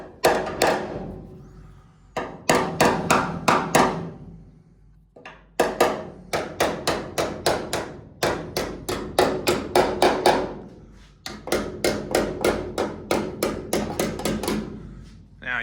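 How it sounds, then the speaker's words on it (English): Hammer smacking a seam on a car body panel, loud ringing metallic blows delivered in fast bursts of several strikes with short pauses between them, close by, with no talking. "If it's not pulled up tight, you can go ahead and just smack a few times with the hammer."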